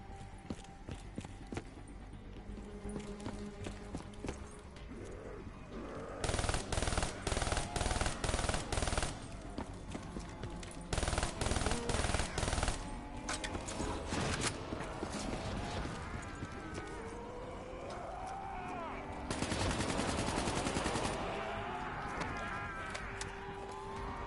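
Gunfire in Call of Duty Black Ops 3, with loud bursts of rapid automatic fire in several long stretches over a dense game soundscape and occasional voices.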